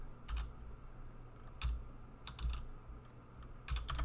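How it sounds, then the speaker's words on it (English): Keys clatter on a computer keyboard in quick little clusters of typing, close and fairly quiet, with brief gaps between the bursts. "So hit the Windows key and type advanced system"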